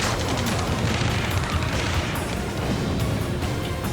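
Dense, continuous gunfire and explosive booms from a rescue-mission firefight in the video game Ace Combat 7, loud and sustained throughout with no clear gaps between shots.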